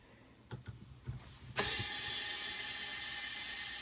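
A few clicks and taps precede a sudden loud rush of air into a tubeless snowblower tire, the hissing fill then holding steady and close until the end.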